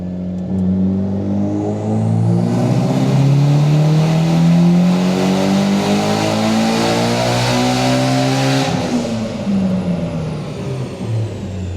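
Tuned Mitsubishi Evo X engine on a dyno pull with the wastegate duty turned up, revving steadily higher for several seconds in one loud, close sweep before the throttle lifts and the pitch falls away.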